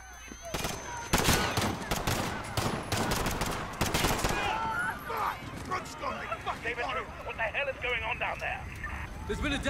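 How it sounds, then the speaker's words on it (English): Gunfire in the Piccadilly Circus mission of Call of Duty Modern Warfare 2019, a rapid series of loud sharp shots up close at the start, then continuing chaotic action with shouting voices over it. "Shots fired"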